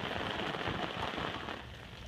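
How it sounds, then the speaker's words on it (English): Rain patters densely and steadily on an umbrella overhead, a close, amplified hiss of countless drops that eases slightly toward the end. "I love the amplified sound of rain under an umbrella."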